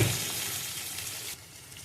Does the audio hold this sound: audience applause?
no